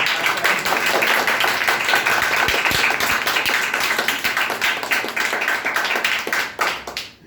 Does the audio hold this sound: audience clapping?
yes